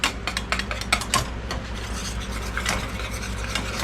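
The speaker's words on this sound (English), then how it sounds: "As soon as you add the egg in, you want to keep whisking until it's thick" Egg is whisked briskly into a tomato mixture to thicken it, producing quick, rhythmic scraping and clicking strokes close by, with no talk.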